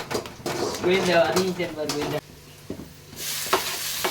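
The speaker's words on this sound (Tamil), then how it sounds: "இப்போ பார்த்தீங்கன்னா எங்கள் கோவிந்தன் வந்து தக்காளி போடுறாப்புல" Tomatoes tossed into a hot pan for egg curry sizzle and hiss while being stirred, with a person talking over the frying; the sizzling swells again near the end after a short quieter stretch.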